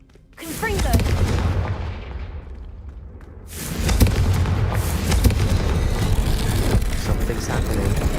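A Confringo fire spell in a video game erupts in a loud, close blast with a roaring, crackling tail. A second powerful burst follows and a dense rumbling roar continues to the end.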